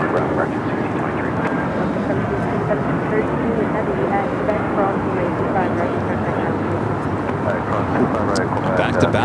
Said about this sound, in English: Back to back, 757s with United.